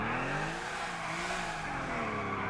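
A car in GTA 4 slides sideways with a sustained tire squeal layered over a straining engine, loud and continuous for a couple of seconds with no speech.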